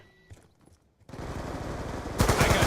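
Gunfire in a competitive esports video game match, a near-silent lull broken by a dense rattling burst of rapid shots that grows louder and harsher toward the end, with no talking.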